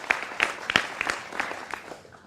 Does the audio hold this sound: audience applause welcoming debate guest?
yes